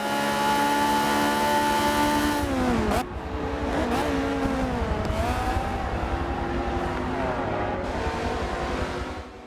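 Race car in Forza accelerating hard down a straightaway while drafting another car, engine roaring loud and steady with rising pitch sweeps through gear changes, no talk.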